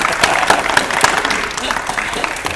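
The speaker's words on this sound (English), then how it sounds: "Give her another round of applause." A studio audience at an antiques game show claps and applauds with dense, crackling hand claps that taper slightly toward the end.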